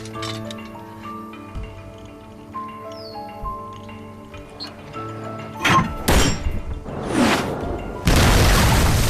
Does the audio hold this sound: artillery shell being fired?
yes